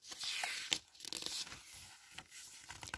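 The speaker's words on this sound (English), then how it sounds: "she muttered, starting to snip and cut furiously." Cloth from a rag bag being snipped and cut by hand, a run of soft tearing, crinkling and clipped cuts in irregular bursts, close and faint.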